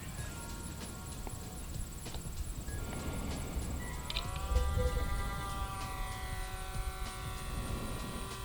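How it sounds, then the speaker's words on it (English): A Dromida Sky Cruiser 2 RC glider with a brushed motor and pusher propeller flies overhead, giving a thin, steady electric whine whose pitch bends and drops midway, heard at a distance over broad outdoor noise. "it's a brushed motor, but anytime you have a pusher prop plane, your planes tend to be a little louder"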